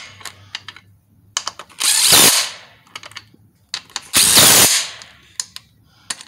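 Impact wrench on a car's wheel bolts and nuts, two loud sustained bursts of about half a second each, separated by lighter clicks and clanks of parts being handled nearby.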